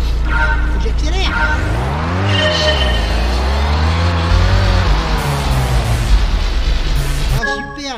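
Car accelerating in a driving game, the engine rising and falling in pitch through several swooping revs, with tire squeal and talk over parts of it.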